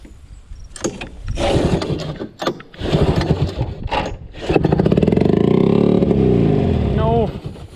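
A Mercury 250 engine with its throttle stuck wide open cranks in short bursts, then catches and roars at high revs in a loud sustained whine, while people talk and exclaim over it.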